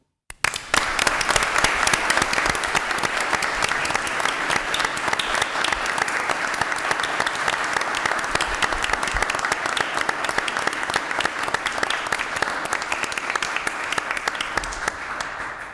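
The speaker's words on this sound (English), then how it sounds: "We applaud you." Applause from an audience in a courtroom, sustained dense clapping from many people that continues evenly for about fifteen seconds before cutting off.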